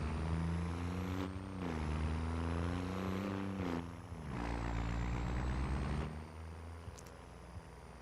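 A tractor in a farming video game drives along with a steady, loud engine drone, its pitch rising and dipping as it moves, and a brief hiss partway through. Nobody speaks.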